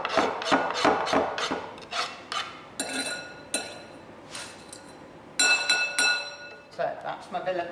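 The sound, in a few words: scraping vanilla pod seeds into a bowl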